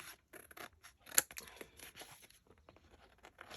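Paper trimmed with scissors at a craft table, close snipping and crinkling with one sharper cut standing out, quiet and without speech.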